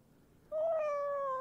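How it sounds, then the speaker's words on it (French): A cat gives one drawn-out meow that starts abruptly after a quiet moment and holds a clear, wavering tone until the end. It sounds close and fairly loud, with no talking. "Un petit miaou."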